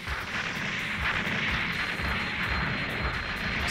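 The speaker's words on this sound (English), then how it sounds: "Oh, artillery." Artillery fire in the Gundam Online video game, a dense, continuous rumble of distant booms and crackling blasts lasting throughout without a break.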